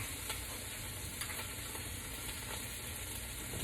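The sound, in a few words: pot roast searing in a hot pan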